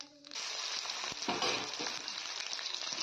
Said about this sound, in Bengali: এবার মাছের তেলেই আমি দিয়ে দিচ্ছি জিরা ফোড়ন।